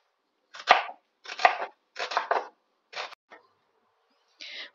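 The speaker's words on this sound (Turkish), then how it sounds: "Kuru soğanlarımı ikiye böldüm ve onları da ikiye bölerek gördüğünüz gibi piyazlık olarak doğruyorum." A knife chops dry onions into thin slices on a board, giving about five crisp, close cuts in an uneven rhythm with short pauses, then a softer last cut.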